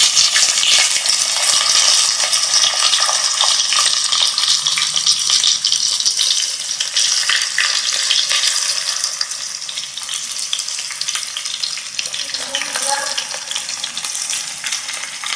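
Tomatoes sautéing in hot oil with popped mustard, fenugreek and fennel seeds, a steady loud sizzle with occasional stirring scrapes, continuous throughout and no voices.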